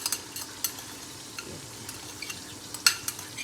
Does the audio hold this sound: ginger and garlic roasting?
yes